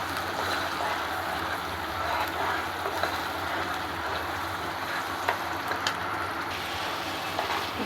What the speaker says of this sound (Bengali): আমি বাটাটা তেলে দিয়ে দিয়েছি। এখন ভালোভাবে এটা কষিয়ে নেব।